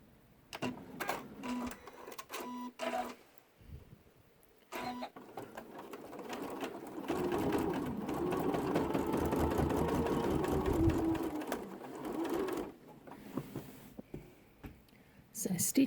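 An embroidery machine stitches an in-the-hoop quilt block with a buzzing, rapid mechanical whir that builds in the middle and stops and starts, while someone talks quietly around it.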